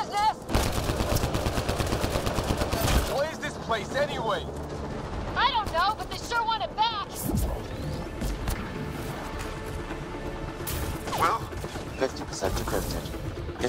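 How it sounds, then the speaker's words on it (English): Gunfire in the video game Mass Effect Andromeda: a rapid burst of automatic shots opens, then scattered single shots and blasts follow among whooshing effects and game sounds, with voices speaking throughout. "Wish any of those shots had hit."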